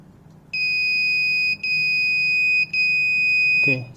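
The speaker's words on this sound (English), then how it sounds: "the 3 beeps just means that it cannot find the SD card" Three long, bright electronic beeps from a portable ingest station signal a missing SD card, each tone held about a second with short gaps, loud and close over quiet room hiss.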